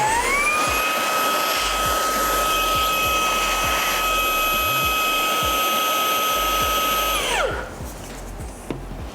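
Close, loud airflow from the air-mattress blower on a Fanttik Slim V8 Apex handheld vacuum, with a steady high whine that holds for about seven seconds, then drops in pitch and spins down as the motor switches off.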